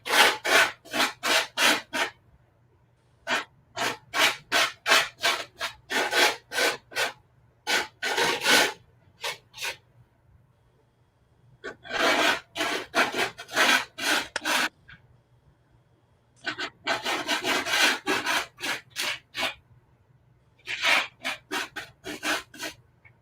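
Sandpaper rasps back and forth over a painted wood surface in quick bursts of strokes, with short pauses between sets, close and fairly loud with no talking.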